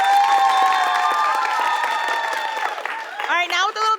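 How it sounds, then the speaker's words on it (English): Studio audience at a high school quiz show applauds and cheers for the Coral Springs High team, a steady wash of clapping under a bright sustained musical sting that fades near the end. "Big round of applause for Coral Springs High."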